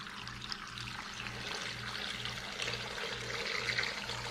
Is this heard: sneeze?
no